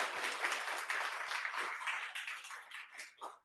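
An audience at a Berlin unstructured data tech meetup claps for a few seconds, a brisk dense patter that gradually thins out and stops.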